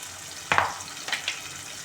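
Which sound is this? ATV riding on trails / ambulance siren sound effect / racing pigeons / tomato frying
tomato frying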